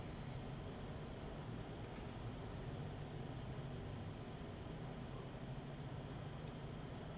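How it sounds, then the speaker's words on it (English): Road traffic rolls past on a public road forming part of the Isle of Man TT Mountain Course, a steady broadband rumble of vehicles held at an even level throughout with no distinct single pass standing out. "Just waiting for that traffic to pass."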